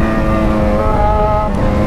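Yamaha XJ6 motorcycle engine held at high revs in a loud, steady, continuous drone close by, with strong stacked harmonics and no talk over it.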